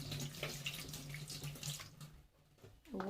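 A small piece of ginger washed under a running kitchen tap, water splashing steadily into a sink, close and soft, thinning briefly near the end before the flow picks up again.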